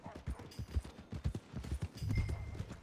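Horse hooves clip-clop in the Red Dead Redemption 2 video game, a moderately paced, fairly faint rhythmic series of hoofbeats on a hard path, with a low rumble building near the end.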